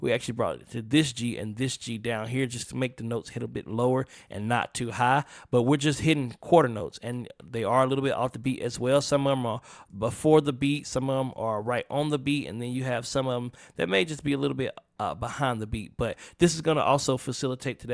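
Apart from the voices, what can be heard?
No everyday noise stands out behind the speech.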